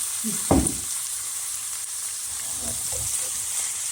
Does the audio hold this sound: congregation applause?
no